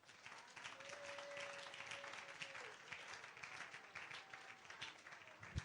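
A church congregation applauding and cheering for the king in a worship service, a soft, fairly distant wash of clapping with faint voices and a sustained tone from music running under it.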